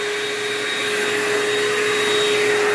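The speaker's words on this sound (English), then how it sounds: "So we always vacuum." A truck-mounted or industrial vacuum cleaner runs loud and steady over a tile floor during grout cleaning, giving a constant roaring whine with a high tonal hum and no voices.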